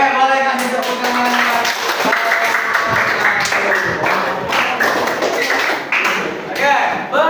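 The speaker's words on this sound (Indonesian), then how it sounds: "Oke, boleh kasih tepuk tangan." An audience applauds after a group presentation, a dense, steady patter of many hands clapping close by for several seconds, with a few louder thumps and taps mixed in.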